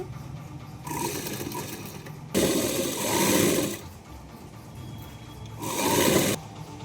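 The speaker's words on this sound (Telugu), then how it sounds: "ఇంకొకటి కూడా సమానంగా పెట్టి ఇంకో కుట్టు వేస్తున్నాను" A sewing machine runs a double line of stitching along a blouse lining in three bursts of steady whirring, close and clear, with short pauses between runs and no talking.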